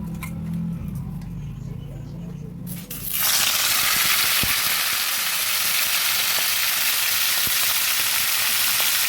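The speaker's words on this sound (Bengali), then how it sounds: "তেল গরম হয়ে গেছে, এখন নুন হলুদ দিয়ে আমি মাছের মাথাটা ভেজে নিচ্ছি" A fish head seasoned with salt and turmeric drops into hot oil, and a loud, steady sizzle suddenly takes over from a low hum and holds to the end, with faint clinks under it.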